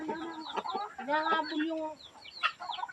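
Chickens clucking close by at feeding time, with a fighting rooster chasing another bird, busy overlapping clucks while a person talks over them.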